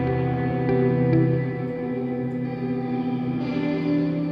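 A LuxeVerb reverb tail in FL Studio 21 with its brightness turned down, a dull, muffled wash of sustained tones that stays even and fairly loud throughout.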